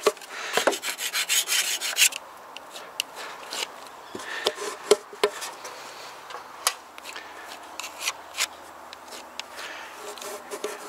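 Hand sanding of a hardwood stair step, steady scratchy rubbing strokes in quick bursts with occasional taps, close and fairly loud, no talking.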